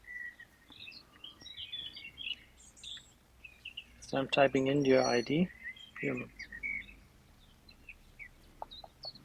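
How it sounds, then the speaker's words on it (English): Scattered bird chirps and tweets in the background, with someone speaking briefly in the middle. "Nice birds in the background."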